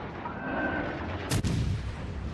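A salvo of HE shells fired from the cruiser Boise in World of Warships, a sharp broadband boom roughly midway through, set against a steady rumbling battle backdrop.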